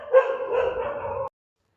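One dog barks a single drawn-out, whining bark, close and clear, then falls silent.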